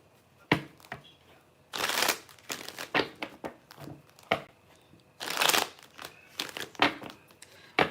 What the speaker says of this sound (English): All right, let me get a good shuffle.